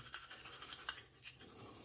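A toothbrush scrubs a child's teeth at home, giving a steady, soft, close scratchy bristle sound with small rhythmic strokes and no talking.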